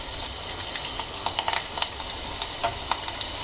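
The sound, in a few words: chili peppers frying in oil with cumin and asafoetida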